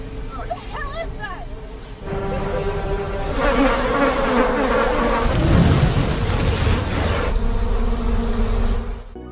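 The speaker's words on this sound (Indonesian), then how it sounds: "mereka dihadang oleh jutaan segerombolan hewan seperti lalat" A dense, droning buzz like a swarm of flies rises and swells under narration and background music, loud and continuous.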